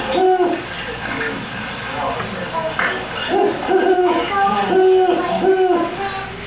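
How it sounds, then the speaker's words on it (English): An owl hoots repeatedly from the trees outdoors, a run of low, rounded calls in steady rhythm, fairly close and clear, with background chatter from children and adults in a classroom lesson. "the owl was hooting in our background"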